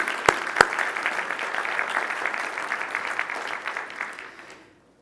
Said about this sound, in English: A round of applause for the class of 2021.